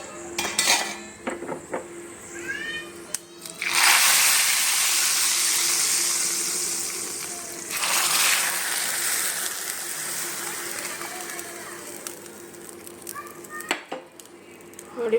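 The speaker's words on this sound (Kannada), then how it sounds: "ಬನ್ನಿ ಫ್ರೆಂಡ್ಸ್, ಇವಾಗ ಒಗ್ಗರಣೆ ಹಾಕೋಣ" Mustard and cumin seeds sizzle loudly in hot oil as a tempering for a leafy greens curry, a long crackling burst followed by a softer second one, with pan and utensil clatter before and after.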